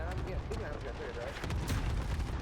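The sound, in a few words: gunfire from a meme gun in the video game Modern Warfare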